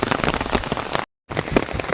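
Rain falls on an umbrella during a village trek in Himachal, a dense and steady patter that stays close and loud, with a brief moment of near silence in the middle before the drumming resumes.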